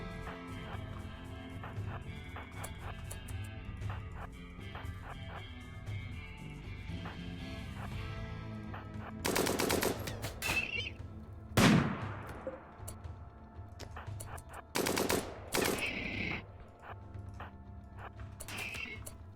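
Gunfire bursts in a RimWorld desert battle, several sharp broadband shots and short volleys clustered mid-way and near the end, standing out above a steady music bed.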